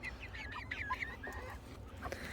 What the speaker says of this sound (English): These are pencil bantams, pencil cochin bantams.